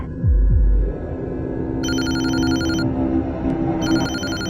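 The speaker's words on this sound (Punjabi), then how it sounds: "ਮੰਮੀ ਦਾ ਫੋਨ ਆਇਆ" A telephone rings in two repeated bursts over a low steady hum, with a thudding knock at the start.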